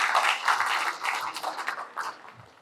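An audience in a psychiatry review class claps together, a dense, steady patter of many hands that lasts a couple of seconds and then thins out toward the end.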